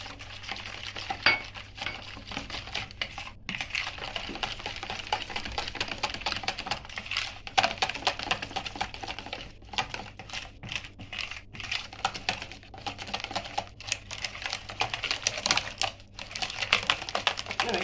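Cocoa being stirred quickly into cake batter in a bowl, a rapid, busy run of clicking and scraping strokes that keeps up steadily and closely without speech.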